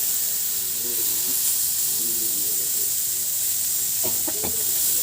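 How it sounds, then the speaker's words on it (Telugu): Oil hisses and sizzles steadily in a pan as eggplant pieces shallow-fry, a constant bright crackle with faint voices murmuring underneath. "మంచిగా షాలో ఫ్రై చేసుకొని పెట్టుకోవాలి"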